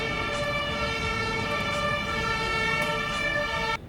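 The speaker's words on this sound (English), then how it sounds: "the sirens in my neighborhood, probably the most annoying part about living here" Emergency vehicle sirens wail in a Frankfurt neighborhood near an ambulance and fire truck station, a loud sustained multi-tone siren holding steady for several seconds before cutting off abruptly.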